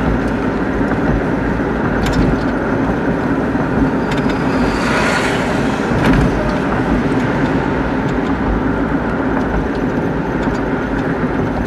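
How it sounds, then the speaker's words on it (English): Trucks sit backed up in traffic near a border bridge in Southwest Detroit, with a steady low engine rumble and idling drone throughout, a brief louder vehicle pass in the middle, and no talk. "See all these trucks? They're just backed up forever."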